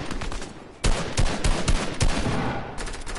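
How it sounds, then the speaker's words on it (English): Bursts of rapid gunfire from a shooter video game, with a reboot van in play. The shots come loud and close in repeated volleys over steady background game noise. "There's a dude up here shooting at him"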